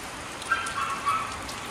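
A continuous wash of heavy rain hisses at a steady level, with a few slightly louder swells.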